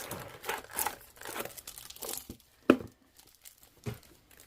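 Loose plastic wrapping crinkles and crackles as a new tarot card deck is unwrapped by hand, in close, uneven bursts of rustling with one sharp crackle partway through and quieter handling at the end.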